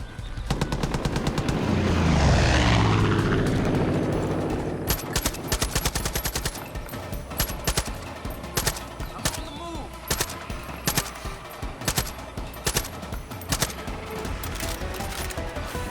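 Rapid machine-gun bursts from an aircraft attack run in Far Cry 5, loud and close, with a rising engine roar early on, then repeated sharp volleys of gunfire in quick succession.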